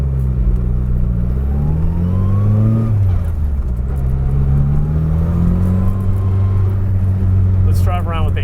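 A Datsun 240Z with a swapped SR20 engine runs close by, its tone climbing and dipping through several revs and gear changes in a steady, loud drone, with voices talking over it.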